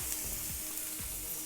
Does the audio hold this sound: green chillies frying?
yes